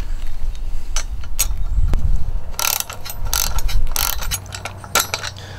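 A ratchet with a 9/16 deep socket tightens lock nuts under a plate on a Boonedox Outfitter truck bed kayak rack, giving several close, quick clicking strokes in short bursts over a low background hum.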